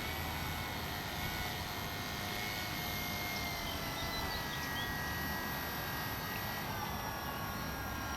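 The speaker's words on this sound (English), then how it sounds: "that was the review and flight of the Flyzone Tidewater airplane" Flyzone Tidewater radio-controlled airplane flying overhead, a steady distant electric motor and propeller whine holding constant throughout against wind noise, with no talking.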